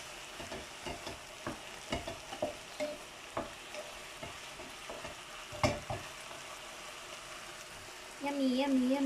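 Onion fries in a pan for homemade fajitas, a quiet sizzle broken by repeated scraping stirs; a steady hum rises near the end.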